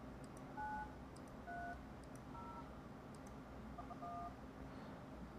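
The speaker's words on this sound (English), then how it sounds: "dial my cell phone." Magic Jack computer phone dialing a cell phone: a quiet series of short electronic tones in pairs and clusters, faint and alone over low background hiss.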